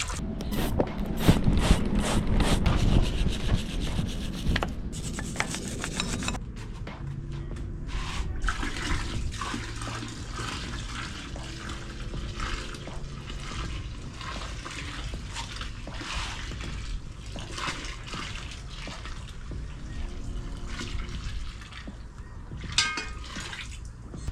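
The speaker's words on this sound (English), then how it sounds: "Why wouldn't some nice boiling water help break things free?" Boiling water pours loudly from a kettle onto engine parts from an Acura TSX, a heavy splashing rush at first, then settling into softer trickling, dripping and draining over a long stretch.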